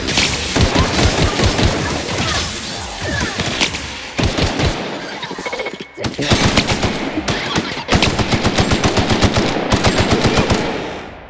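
Rapid machine-gun bursts and heavy gunshots from The Outer Worlds video game rattle loudly and almost continuously, broken by a couple of brief pauses, with a few booming impacts mixed in.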